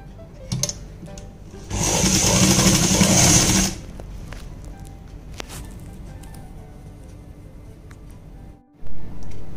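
A sewing machine stitches palazzo trouser fabric in one loud, steady two-second run of whirring, set among quieter handling noises and brief knocks before and after.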